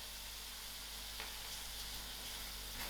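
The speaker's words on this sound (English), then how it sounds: "I'll allow my soya mince to fry out" Soya mince frying in a masala, a dense continuous hissing sizzle that stays steady and fairly quiet throughout, with a couple of faint stirring scrapes.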